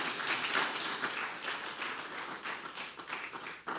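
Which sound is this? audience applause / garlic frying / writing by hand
audience applause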